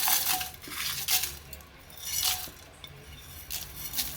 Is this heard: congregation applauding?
no